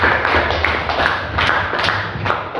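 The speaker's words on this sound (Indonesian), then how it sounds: "terima kasih, tepuk tangan untuk kita semua." A class of students claps together during a lesson, a dense, steady patter of hand claps with a few sharper slaps, fairly close and loud, lasting a few seconds.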